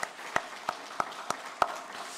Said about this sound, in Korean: 순종한 분들에게 우리 축복의 박수를 한번 보냅시다.